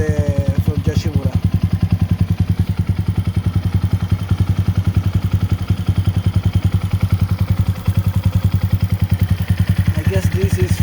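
A 2022 Honda Monkey motorcycle fitted with a Yoshimura exhaust runs at a steady idle, a close, loud, rapid even putter that continues throughout, with voices heard briefly over it.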